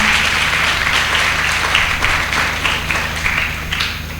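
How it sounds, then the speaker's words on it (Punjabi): A congregation at St. Antony's Catholic Church applauds the priest during a novena, a sustained, fairly loud round of many hands clapping that fades slightly toward the end. "ਅਸੀਂ ਜ਼ੋਰ ਨਾਲ ਫਾਦਰ ਜੀ ਨੂੰ ਤਾੜੀ ਵਜਾ ਕੇ ਉਹਨਾਂ ਦਾ ਧੰਨਵਾਦ ਅਤੇ ਉਹਨਾਂ ਨੂੰ ਜੀ ਆਇਆਂ ਆਖਦੇ ਹਾਂ"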